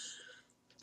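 One short, sharp cough bursts out near the end after a moment of near silence, following faint tonal background sound at the start.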